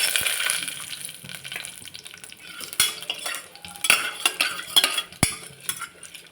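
Cashew nuts fry in a pan for a baby jackfruit biryani, with a soft sizzle under repeated sharp scrapes and clinks of a stirring spoon against the metal, close and fairly loud.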